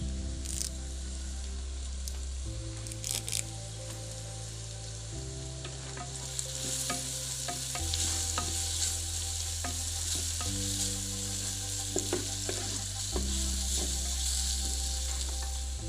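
Chopped onion fries in hot oil for a masala chicken gravy cooked over a wood-fired stove, a steady low sizzle with occasional stirring scrapes and small crackles throughout, with no talking.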